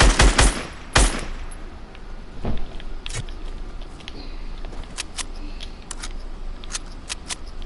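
Video game gunfire, sharp bursts of shots with a loud rapid volley at the start, then scattered single cracks and short bursts at moderate loudness over a low background.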